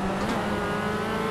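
Fiat Uno race car engine revving steadily in the racing video game Automobilista 2, a continuous loud motor drone with a brief rise in pitch as it accelerates.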